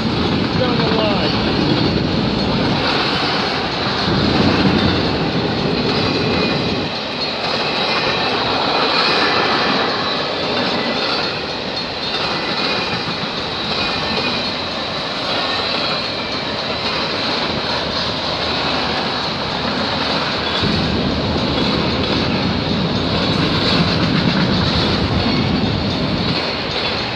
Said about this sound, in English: There's this CP train coming down the line.